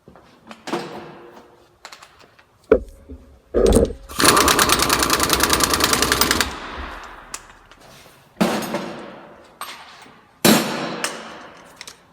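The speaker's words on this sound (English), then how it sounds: "Now I'm going to install my replacement spindle nut." Replacement spindle nut being fitted on a Honda Pilot CV axle: sharp metallic clanks and knocks of tools, then a rapid buzzing ratchet or impact-gun burst of about two seconds, followed by several more clacks, close and without talk.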